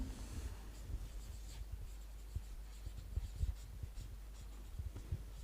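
Pen writing measurements on paper by hand, a quiet continuous scratching with small irregular strokes and taps, close by with no talking.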